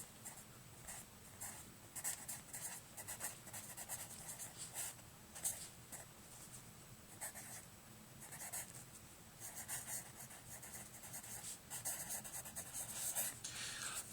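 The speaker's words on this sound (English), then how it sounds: "Let me write that down." Pen or marker writing out math notes on factoring by grouping, a steady run of close, quiet scratching and rubbing strokes in short bursts with brief pauses, no voices.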